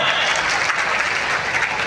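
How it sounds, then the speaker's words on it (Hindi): A crowd at a public rally in Sarwar, Rajasthan applauds loudly for Bhagirath ji, a dense, sustained roar of clapping with no pauses. "जोरदार तालियां भागीरथ जी के लिए बजा"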